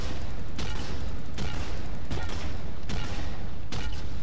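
A rifle grenade fires repeatedly in the superhero video game DC Universe Online. Five sharp blasts land at a quick, even pace, each rising out of a continuous loud wash of game noise.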